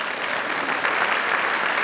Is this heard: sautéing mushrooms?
no